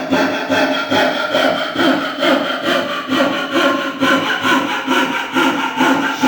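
A coping saw cuts through wood on a bench in steady, rasping back-and-forth strokes, close and loud, about two strokes per second, with no talking.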